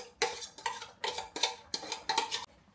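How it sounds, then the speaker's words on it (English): Tuna is tipped into a pan on a wood-fired Metters stove: six sharp metallic scrapes and clinks of a utensil against the pan in a quick, uneven rhythm, close and fairly quiet, with no talk. "The next thing is to put the tuna in"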